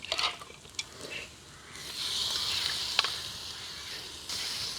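Pieces of pre-cooked Kerala-style duck added to masala in a pan and stirred, giving scraping stir strokes and knocks at first, then a steadier sizzling hiss of frying, close and moderately loud, with no voices.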